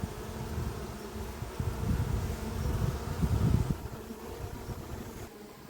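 A steady low buzz from many honeybees at a hive entrance, returning with sunflower pollen, swelling slightly in the middle and easing off toward the end, with no talking.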